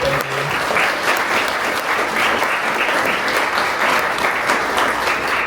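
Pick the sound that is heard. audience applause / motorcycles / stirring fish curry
audience applause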